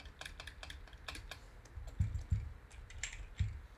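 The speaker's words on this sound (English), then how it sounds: "It's a shallow keyboard though" Fingers type on a shallow tactile computer keyboard, a quiet run of irregular clicking keystrokes with a few heavier thumps mixed in, close and alone.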